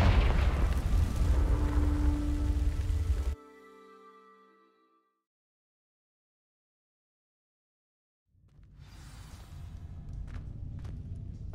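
A Confringo spell explosion in Hogwarts Legacy, a loud rumbling blast that rings out and fades to silence, followed several seconds later by quieter ambient game sound and rustling.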